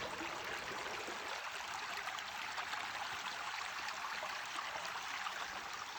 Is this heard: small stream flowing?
yes